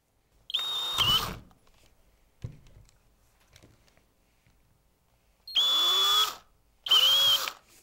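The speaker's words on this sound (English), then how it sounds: "take the small drill bit and drill a hole right in the center" A small drill bit bores a hole into the bottom or top of a plastic film canister, with three bursts of loud, steady whining drill sound, each about a second long, separated by quiet pauses and small handling knocks.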